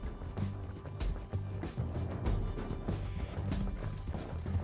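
In the video game Red Dead Redemption 2, horse hooves clip-clop in an uneven rhythm at moderate distance, quiet and mixed with faint background clatter.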